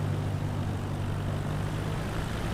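Cessna 172 propeller engine droning steadily at reduced throttle during an ILS approach in Microsoft Flight Simulator 2020, a constant low hum with a strong low-pitched tone throughout, close and even in level.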